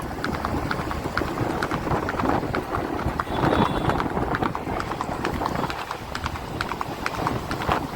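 Horse hooves clip-clop steadily on a road in Gandhidham, a continuous rapid rhythm of hoofbeats, fairly close, over constant traffic and street noise.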